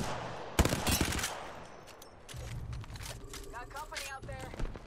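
Rapid gunfire crackles in Apex Legends, a dense burst of shots near the start followed by scattered firing and game effects, mixed under someone talking.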